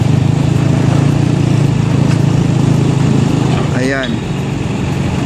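Cranes dredging the Pasig River, heard as a steady low engine drone throughout, with someone speaking over it near the end.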